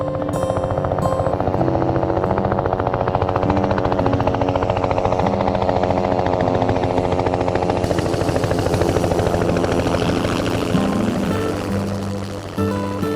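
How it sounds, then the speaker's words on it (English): A loud, steady four-seat helicopter rotor and engine drone fills the whole stretch as it arrives near the Beaufort Sea in Yukon, Canada, a dense continuous mechanical roar with a rhythmic chop that holds close and constant. "The helicopter, which only seats 4 people, has come to pick up the first group"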